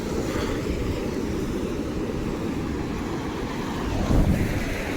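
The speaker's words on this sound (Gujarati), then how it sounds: "જો દરિયો આજે જો કેટલા મોજા મારે છે" Continuous rushing surf fills the air, a dense roar of waves mixed with wind buffeting the microphone, swelling briefly near the end.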